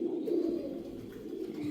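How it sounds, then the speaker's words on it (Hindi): Steady low cooing of a pigeon, close and continuous, rolling throughout with no other sounds. "समझदार अक्लमंद कबूतर।"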